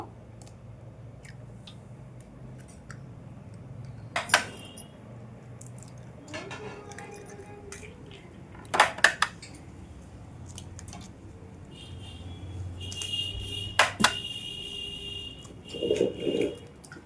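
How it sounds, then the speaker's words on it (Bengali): Eggs cracked open one after another against a hard edge, giving a few sharp separate taps and cracks spaced several seconds apart, fairly close, with quieter handling sounds and light kitchen clatter between them. "প্রথমে ডিমটা ফাটিয়ে নেবো"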